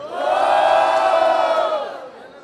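A crowd at a street rap battle roars and shouts in a loud burst of cheering that swells and then fades over a couple of seconds, close and dense.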